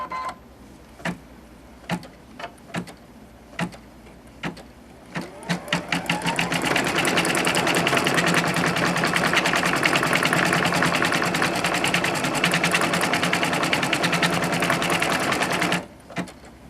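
A sewing machine loaded with red thread for a quilt block gives a few single clicks, then runs steadily for about ten seconds in a fast, even mechanical whir, close and with no talk.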